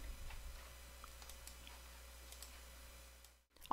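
A computer mouse clicks while a document is formatted in a word processor. The clicks are soft and scattered over a quiet room, then there is a brief silence and an abrupt burst of noise at the very end.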